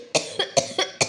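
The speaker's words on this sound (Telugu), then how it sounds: "దగ్గుతూ" A person coughs hard five times in quick succession, each one a sharp, loud burst close to the listener, with no speech around it.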